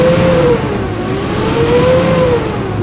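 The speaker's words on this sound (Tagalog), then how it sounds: "Ibalik natin i-rev ulit." A Mitsubishi Montero engine being serviced for fuel-pressure fault code P0089 revs up loudly close by, holding a strong, slightly wavering roar after an initial surge, with no talk over it.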